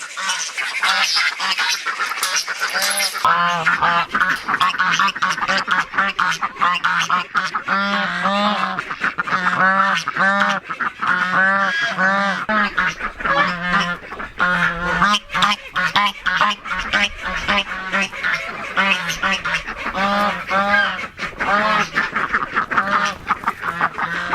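A flock of geese honks and ducks quack nearby, a dense overlapping chorus of repeated calls that continues loudly and without pause.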